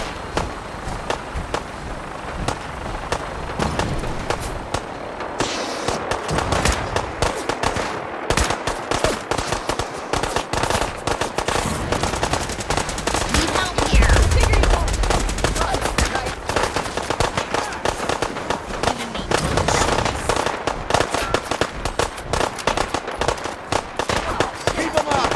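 Dense, continuous gunfire in the video game Fallout 4, with rapid automatic bursts and explosive cracks filling the whole stretch loudly and without pause.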